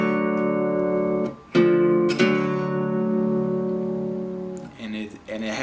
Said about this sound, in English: But along with that double stop, he plays a pull off with that.